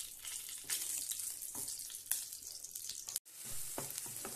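Onions frying in a pan with green chillies, a steady crackling sizzle with a brief clatter and a short gap near the end, recorded close with no talking.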